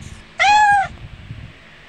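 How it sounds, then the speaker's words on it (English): A cartoon cat in the Toca Life Vacation video game lets out one loud, clear, tonal meow lasting about half a second, standing out alone above faint background sound. "cat"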